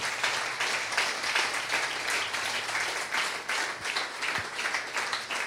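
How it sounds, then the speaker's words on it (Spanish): A church congregation breaks into loud, sustained applause, a dense wash of many hands clapping together with no pause. "Denle un aplauso fuerte,"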